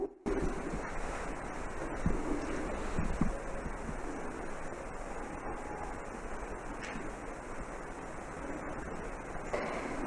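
Steady night wind blows outdoors at an old sanatorium, a constant broad rushing noise with faint buffeting, no voices.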